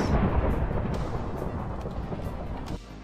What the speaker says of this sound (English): There is a giant thunderstorm right now in Minecraft.